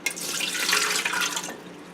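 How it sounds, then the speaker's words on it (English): Warm water pours into a bread machine pan, a brief close splashing gush of about a second and a half that then stops abruptly. "So the first thing we put in is 1 1/4 cup of warm water."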